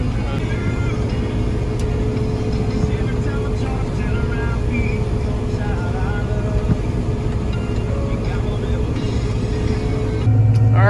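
A combine harvester harvesting soybeans drones steadily and loudly throughout, a constant mechanical rumble with faint rattles and no talk.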